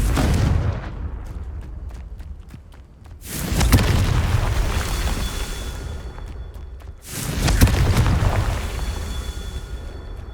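Explosive spell blasts in the game Hogwarts Legacy: two deep, booming detonations a few seconds apart, each with a loud burst and a long rumbling tail, with no talk over them.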